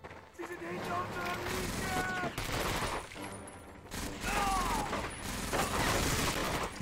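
Gunfire from the World War II shooter Medal of Honor: Vanguard, bursts of automatic fire and mechanical clatter running almost continuously, mixed with in-game voices and a person talking over it.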